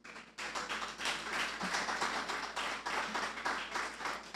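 A dense, continuous round of audience applause welcomes a speaker at a public talk, steady and full from start to finish after a brief quiet opening, with no voices over it.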